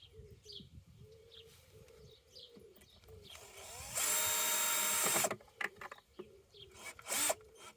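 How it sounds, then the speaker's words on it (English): An electric drill whirs in one loud burst of just over a second, then a shorter burst later, with pigeons cooing softly in the background. "You don't like the drill, do you?"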